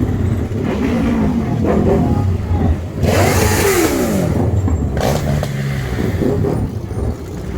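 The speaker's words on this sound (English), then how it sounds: "They don't have a horn, so they just rev their engines at exhaust." Motorbike engines rev sharply in a Manhattan street, a loud rising and falling whine in the middle, over a constant rumble of nearby traffic.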